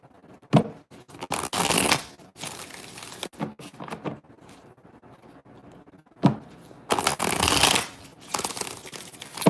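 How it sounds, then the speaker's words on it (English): Close riffle shuffling of a tarot deck, several bursts separated by quiet gaps, loud and crisp with no voices. "2 more shuffles."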